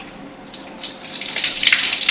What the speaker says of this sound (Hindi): ये एक दफ़ा वाजिब है पानी डालना बाजू पर भी